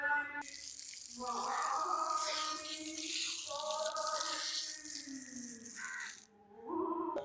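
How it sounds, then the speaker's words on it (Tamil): Tap water runs steadily for feet washing at the entrance of a temple on Nainativu island, a continuous close splash with tonal sounds drifting in the background. "இந்த இடத்துல மக்கள் வந்தால் காலைகள் வந்து கழுவிட்டு தானே ஆலயத்துக்குள்ளே போயினும்."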